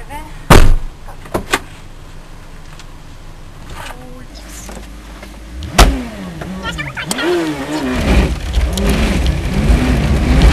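A car's engine straining and revving as it climbs a steep ramp on a road at Río Tranquilo, with sharp thumps early on, the engine note rising toward the end, and people reacting loudly nearby.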